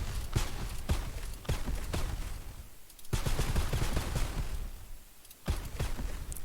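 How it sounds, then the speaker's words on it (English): Plasma cannons in a video game fire alternately from the left and right, producing rapid bursts of sharp, punchy shots in quick clusters with brief pauses between volleys, loud and close. "when I press the button, it will first fire the left plasma cannon and then fire the right"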